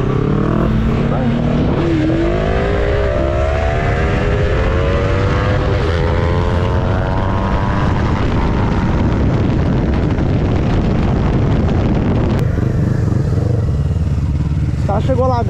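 Yamaha MT-03 motorcycle at high speed, its engine whining and rising through the gears in a loud, sustained pass, with wind noise and a voice talking over it.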